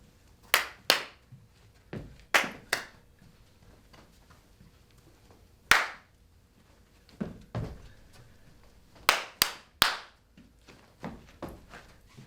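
Children in a primary-school physical education class clap hands in counted groups, sharp claps in pairs and triplets separated by pauses, crisp and fairly close, with no talking over them.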